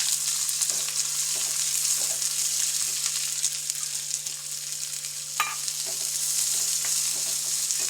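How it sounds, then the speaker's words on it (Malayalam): Onions sautéing in a frying pan give a steady, close sizzle with occasional stirring scrapes, with no voices. "അതിലേക്ക് ഞാൻ സബോള ഇട്ട് കൊടുക്കുവാണ്."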